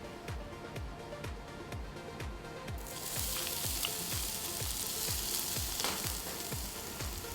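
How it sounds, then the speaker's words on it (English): Diced onions and mushrooms cook in a little oil in a large pan over medium heat, with a steady run of light rhythmic ticking that swells into a broad, close sizzle partway through; no voices. "In a large pan over a medium heat, I'm going to cook the diced onions and the mushrooms in a little bit of the oil."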